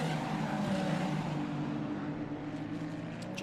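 Ferrari Challenge Coppa Shell Am race cars at Circuit Paul Ricard, Le Castellet, give a steady, loud engine drone with a faint whine above it, like a pack of cars running on track. No one speaks.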